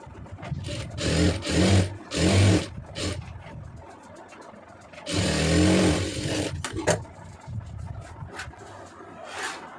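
A sewing machine stitching the neck lining of a blouse, running in several short whirring bursts separated by pauses, close and fairly loud, with no speech.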